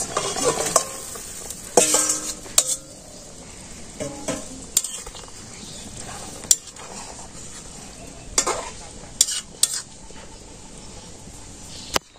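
Tilapia and eggplant pieces fry in oil in a village kitchen pan with boiled taro, giving a steady close sizzle broken by repeated stirring scrapes and clinks of a metal spoon against the pan. No one speaks.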